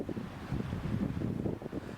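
Steady wind on a cold fishing day buffets the microphone with a low, rumbling roar that swells and dips throughout.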